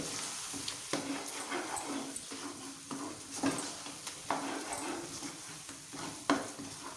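Egg being whisked briskly in a bowl for an egg khagina breakfast dish, a steady run of quick scraping clicks and taps close by, with no talking.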